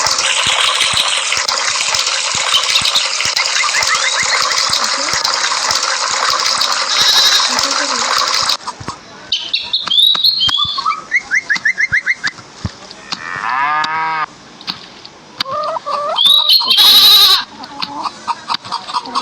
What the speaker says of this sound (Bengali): ভাই ছাগলটা অনেক শয়তান।